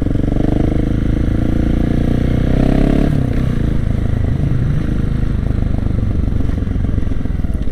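A 125cc motorcycle rides past, its engine note loud and steady with a droning, revving tone that shifts pitch midway, joined by clattering and scraping noise throughout.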